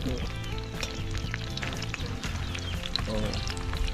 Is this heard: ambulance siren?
no